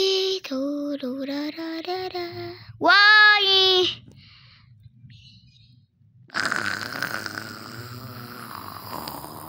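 Cartoonish snoring from a character in the Roblox game Brookhaven: a loud, pitched, voice-like snore with a long rising inhale, then a pause and a noisy, drawn-out exhale, all close and clear.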